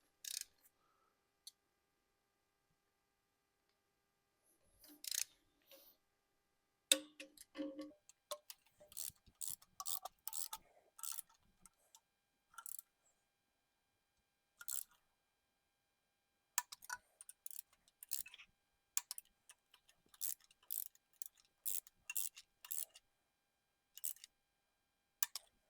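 Torque wrench tightening exhaust manifold bolts on a 6.0 Powerstroke diesel engine, sounding as scattered sharp clicks and ticks in short bursts with quiet gaps between, fairly faint and close, with no talking.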